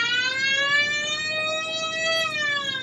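A wailing emergency siren, likely from a fire truck, holds a steady rising-and-falling tone with strong harmonics, sounding loud and continuous throughout without any talk.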